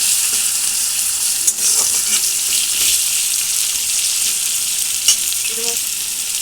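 Chopped onions and four green chillies fry in spiced oil in a pan, a steady, loud sizzle close by with occasional spatula scrapes and knocks as they are stirred.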